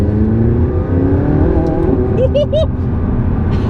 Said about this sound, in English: a slight whip crack on the upshifts that just sort of reaffirms that not only have you changed gear